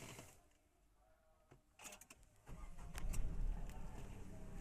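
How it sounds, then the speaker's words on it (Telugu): A 2023 top-end Tata Nexon's engine is started by push button, with clicks and a brief crank followed by a low, steady idle that grows louder. "వెహికల్ స్టార్ట్ అయిపోయింది."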